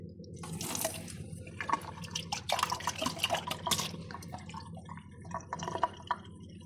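Tap water runs into a water filter, a steady close splashing flow with dripping and gurgling that swells in the middle and then eases, with no voices.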